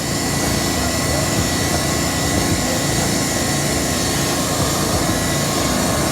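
Heat gun blasting hot air onto a PVC roofing corner patch, a loud, continuous blowing hiss and roar close by, steady from start to finish.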